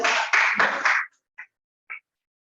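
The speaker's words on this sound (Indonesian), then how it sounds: "Tepuk tangan dulu semuanya." A class of students in an Indonesian mathematics lesson claps in four quick, loud, rhythmic bursts lasting about a second, followed by two faint short sounds in near silence.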